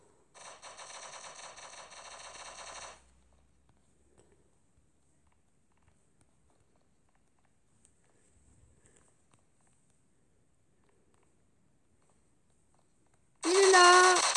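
Video game gunfire bursts out in a rapid automatic volley for a few seconds, then silence, then another loud burst near the end.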